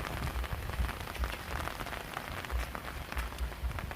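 Rain falls steadily, a dense soft patter of drops hitting surfaces with scattered louder taps, and no voices.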